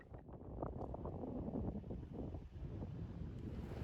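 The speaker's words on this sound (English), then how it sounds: "it was tough to record that morning because of all the wind" Steady wind blowing across open grassland in Wind Cave National Park, a low continuous rumble buffeting the microphone, fairly loud and close with no voices.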